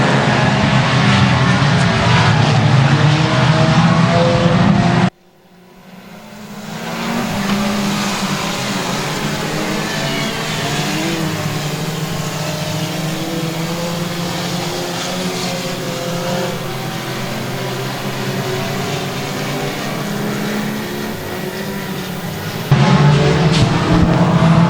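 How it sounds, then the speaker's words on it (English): Four-cylinder race cars roar around the dirt track at Boothill Speedway on a Saturday night, a loud, continuous engine drone with a brief cut before the sound swells back to a sustained, steady roar. "And the final race of this dirt track Saturday night."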